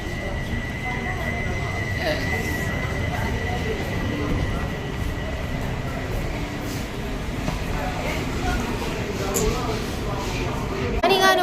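The Sabari Express train rumbles steadily nearby at a railway station with a constant low roar, a faint squeal and a sharp screech near the end.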